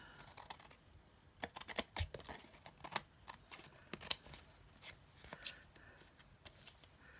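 Scissors snipping through stamped paper pieces, a run of quick close crisp cuts in uneven bursts, fairly quiet.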